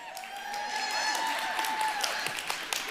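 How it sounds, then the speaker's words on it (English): A studio audience, mostly women, breaks into a short round of applause, steady close clapping lasting about three seconds with a voice speaking over it. "I can't believe most women just clapped right there"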